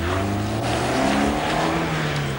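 BMW 318i driving hard around the Shennington kart track, its engine note loud and close with steady rising harmonics and a continuous roar, tires faintly scrubbing, no voices.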